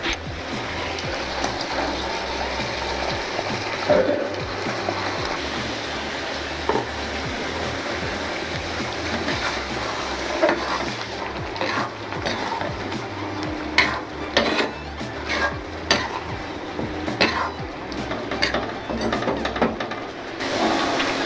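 A ground spice paste is stirred into Karaikudi pepper chicken cooking in a pan, with a soft, low sizzle under repeated scraping and clinking of a spoon against the pan, growing busier toward the end.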